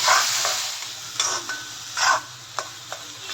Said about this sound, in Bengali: চামচের এক চামচ ঘি মশলাটাকে ভালো করে আমি এবার কষিয়ে নিচ্ছি